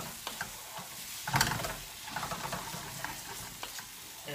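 A spoon stirs English mustard through pasta carbonara in a pan, making quiet, uneven scraping and sticky stirring sounds with a faint sizzle underneath. No voices are heard.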